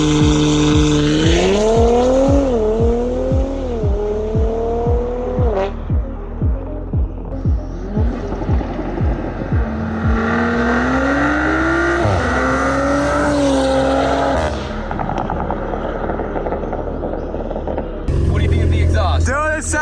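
Modified Audi sedan with two people aboard launching hard from 0 to 60, the engine climbing through rising revs with quick gear shifts, loud and close, before easing off toward the end.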